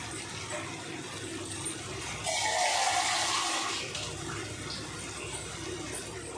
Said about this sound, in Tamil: இப்போ நம்ம அந்த மிக்சி ஜாரை வந்து கழுவி அதில் வந்து சேர்த்துக்கலாம்